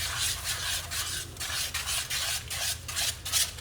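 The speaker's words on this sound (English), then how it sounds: "You're just stirring," Pasta with black pepper stirred in a pan for cacio e pepe, a close rhythmic scraping and rubbing in repeated strokes, loud and steady with no talk.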